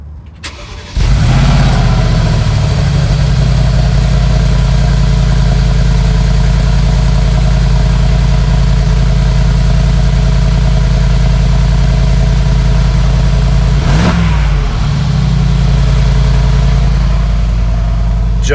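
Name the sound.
Mercedes-AMG G63 G-Wagon engine exhaust idling and revving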